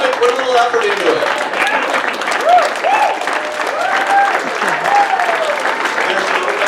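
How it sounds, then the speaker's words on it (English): Wedding guests applaud at a best man speech, a sustained burst of clapping from a room full of people with cheers and whoops rising over it throughout. "I'd like to start by asking everyone to stand up and put your hands together"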